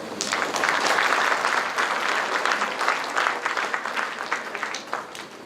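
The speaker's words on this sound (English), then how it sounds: "I think that deserves a big round of applause." Audience applause at a silver jubilee celebration of a Guwahati institution, a dense sustained clapping from a large crowd that holds steady, then thins into scattered claps toward the end.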